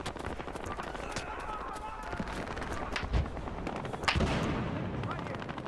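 Gunfire in the police shooter game Battlefield Hardline, with a few sharper shots standing out over a constant din of battle noise, while a voice talks throughout.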